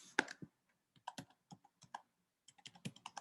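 Keys clack on a computer keyboard in uneven bursts of close, crisp keystrokes, with short pauses between runs of typing.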